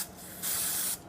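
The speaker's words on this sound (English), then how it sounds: "Clean the pin with a little brake cleaner." A short, close burst of brake cleaner sprays onto a pin during Jeep Grand Cherokee ZJ 5.9 axle shaft work, a bright hiss lasting about half a second between quieter background noise.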